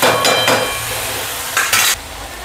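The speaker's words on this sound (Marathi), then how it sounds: "टमाटर मस्त मऊ झालेला आहे। आता मी ठेचून घेते।" Softened tomatoes are crushed in a pan, heard as a few short scraping, mashing bursts over a steady sizzle, close and fairly loud.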